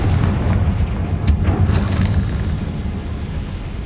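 A Confringo fire-blast spell exploding in the video game Hogwarts Legacy, a loud sustained rumbling boom with crackling bursts, close and continuous.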